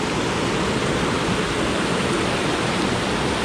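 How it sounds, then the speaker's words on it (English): Thompson Falls pours in a steady, loud, broadband roar of rushing water, close and continuous with no breaks or voices. "So anyway, Thompson Falls."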